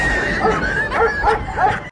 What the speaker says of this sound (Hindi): और इंडिया में जब कोई रात को कुत्ता भौंकता है